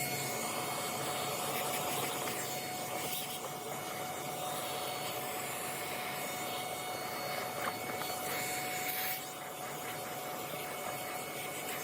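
Shop vacuum sucking out dust during HRV maintenance, a loud steady roaring whine that runs the whole time with small changes in tone as the nozzle moves around.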